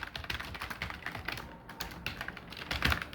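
Fingers type text on a computer keyboard in a quick, uneven run of close keystroke clicks with short pauses between bursts, and no voices.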